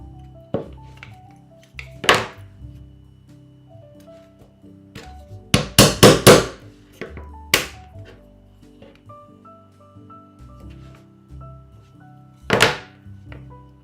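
Hammer blows driving nails into a Japanese-binding stitching template for a tulip design: a few sharp, close knocks, with a rapid cluster of strikes in the middle and isolated single taps before and after, over a quiet room.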